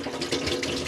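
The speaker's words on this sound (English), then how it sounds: "As long as your pump's on, you'll be able to get a pressurized flow of water on the hot and cold side" Pressurized water runs from a tap in an Auto-Sleeper Corinium motorhome, a steady close hiss and splash into the sink with no voices over it.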